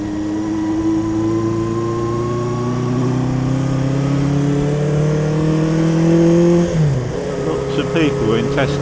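A motorbike engine revs up with a rising, steady drone that climbs in pitch over several seconds, then drops sharply as the throttle eases, heard close and loud with the rider talking over it.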